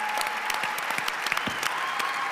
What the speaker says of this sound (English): can we have a round of applause for the Resolve staff team